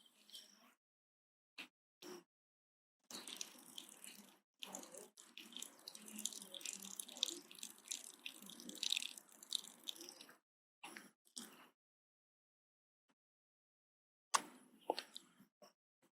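Water trickles and drips in uneven spurts during rubber neti nasal cleansing in a pranayama session, faint and close, with a longer steady flow in the middle and scattered splashes separated by silence.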